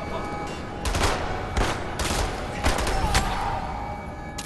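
Continuous dual-wielded gunfire in the shooter Wolfenstein The New Order, with dense overlapping shots and repeated sharp bursts over a steady loud background of combat noise.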